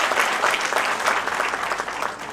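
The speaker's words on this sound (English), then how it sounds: "Let's have a big round of applause for all of them." Applause fills the hall at a college convocation ceremony: a dense, steady burst of clapping from a large audience, loud and close, with no speech over it.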